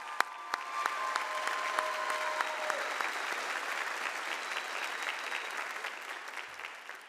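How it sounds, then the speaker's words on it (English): Sustained audience applause at a university commencement ceremony for the College of Health Sciences, a dense, steady wash of clapping across a large crowd that holds evenly throughout, with a few sharper nearby claps standing out early on. "Can we give Amaya another round of applause for such a courageous remark?"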